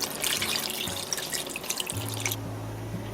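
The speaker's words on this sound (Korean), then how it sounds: "쌀뜨물을 한 700ml 정도 준비를 했는데 한 500ml 먼저 이렇게 부어주세요" Rice water poured into a pot of braised pork ribs, a close splashing, gurgling pour that stops and leaves a low steady hum, no talk.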